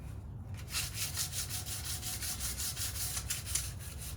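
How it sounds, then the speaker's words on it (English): Light hand sanding of very old wood, a steady rhythmic scrubbing of even back-and-forth strokes, close and moderately loud with no talk. "just a little light sanding, and I'll get with it"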